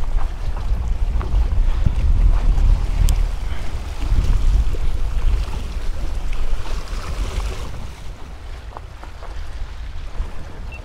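Steady wind gusts roar across the mic at the Texas City Dike fishing pier on the water, a continuous rumbling buffet that swells and eases over several seconds with no talking.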